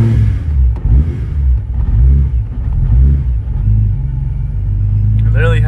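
A supercharged Nissan 370Z engine starts and holds a loud, close, steady low rumble, with a rising rev swell near the end, while muffled voices sound underneath.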